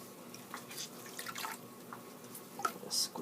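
Water drips from a soft, wet washcloth squeezed out during a doll's bath: a few faint, scattered drips and light trickles, close but quiet, with no talking.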